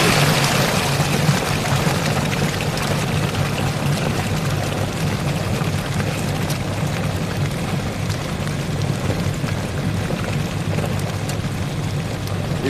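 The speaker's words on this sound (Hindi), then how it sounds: "ये अपना मशीन चल रही है, इसको चलने देते हैं हम लोग।" A washing machine runs a load of water and detergent powder, giving a steady, loud churning and sloshing rumble that holds evenly throughout with no talking.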